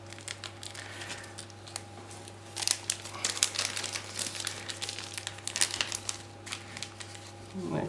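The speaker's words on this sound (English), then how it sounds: "Next is content, a small plastic bag." Crinkling of a plastic bag being handled, rustling in irregular bursts over a steady low hum.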